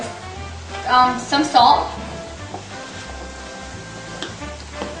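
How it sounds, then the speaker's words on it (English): Vegetables and frozen spinach sauté in a pan for a vegetable lasagna, giving a soft, close sizzle under a person talking, with a few light clinks of stirring. "the vegetables are sauteing"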